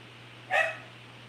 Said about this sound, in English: there's my doggy barking